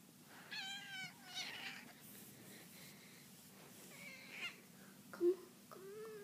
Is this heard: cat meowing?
yes